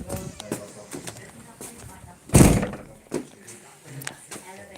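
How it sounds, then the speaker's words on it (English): A door bangs shut once near the middle, a single loud thud amid casual talk in a room. "will I close the door?"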